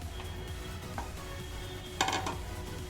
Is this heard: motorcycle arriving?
no